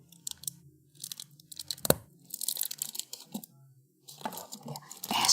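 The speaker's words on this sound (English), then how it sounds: "this is the sound of me cutting a bar of soap" A bar of soap is cut close to the microphone in an ASMR setting, giving soft crunching and scraping bursts in irregular clusters with brief quiet gaps, and no speech.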